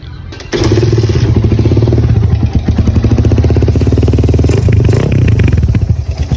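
A Raider carburetor motorcycle fitted with a second-hand Thai-style power pipe exhaust starts up and revs loudly and close, with a steady throbbing idle and rising bursts of throttle.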